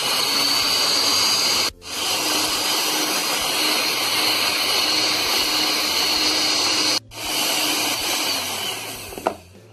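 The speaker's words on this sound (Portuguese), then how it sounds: "E nós vamos bater isso aqui por mais ou menos 2 minutos na velocidade 1 da batedeira." An electric stand mixer beats passion fruit ice cream base at speed 1, a steady loud whirring hum that runs for nearly ten seconds, with two brief dropouts where the motor pauses and restarts.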